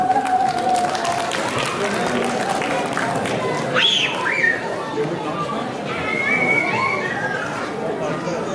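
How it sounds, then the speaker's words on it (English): Audience at a cultural festival clapping in a sustained round of applause, dense and steady, mixed with crowd chatter and a few voices calling out over it. "Please welcome him with a round of applause."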